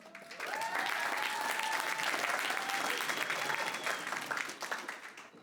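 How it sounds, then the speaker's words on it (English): Audience applause after a student's speech to a crowd of millionaires: steady, fairly close clapping from many people for about five seconds, tapering off at the end. "Wow, that was a lot of applause."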